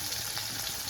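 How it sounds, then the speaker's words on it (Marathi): Garlic, onion and tomato frying in hot oil give off a steady, close sizzle for a brief moment, with no voices. "चुरचुर आवाज येते."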